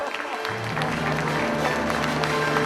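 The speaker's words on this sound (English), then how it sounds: "Round of applause, please." Crowd applause at a leadership event as the organizing chairman is called on stage, steady clapping from a large audience with tonal music or hum sounding underneath.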